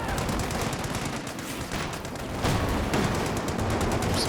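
Anti-tank gun fire in a Company of Heroes 2 match, heavy booming shots mixed into a constant wash of battlefield gunfire, with a stronger report partway through.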